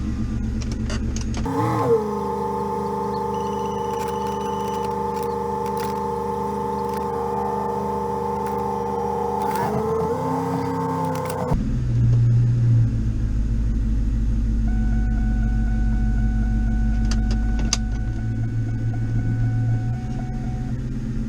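A vehicle engine with a 4R70W automatic transmission idles steadily while the fluid is checked, a constant low hum with a whining tone that shifts pitch and becomes a deeper rumble partway through.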